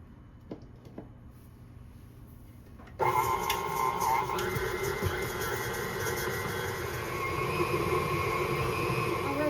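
Electric mixer running at medium speed, beating butter for gingerbread cookie dough; it switches on abruptly after a quiet start, then whirs steadily and fairly loud with rattling bowl texture for the rest.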